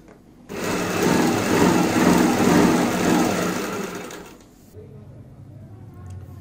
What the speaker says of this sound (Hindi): पूरे फ्रंट में हम इसी प्रकार से सिलाई लगाते हुए दोनों पीसों को जोड़ेंगे